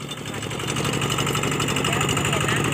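A walk-behind farm tractor engine runs steadily at close range, a loud, even mechanical drone with a throbbing low pulse that holds constant throughout.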